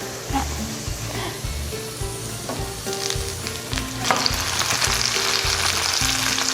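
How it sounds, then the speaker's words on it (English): Chopped tomatoes for Turkish menemen fry and get stirred in a pan, with a loud continuous sizzle and crackle that builds toward the end, with no talking. "So we've tossed in the tomatoes. I'm gonna stir them around just a little bit"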